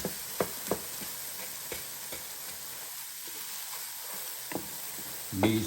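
Eggs and milk frying in a pan while being stirred, a close steady sizzle with occasional soft knocks of the utensil against the pan and a brief louder scrape at the end.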